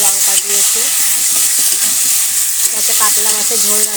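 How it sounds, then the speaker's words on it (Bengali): Ginger, cumin and other spices sizzling steadily in hot oil in a village kitchen pan for a katla fish curry with potatoes, a loud continuous fry with some stirring and a voice speaking over it at times. "মশলাটা দিয়ে দিলাম দিয়ে এখন এটা কষাবো"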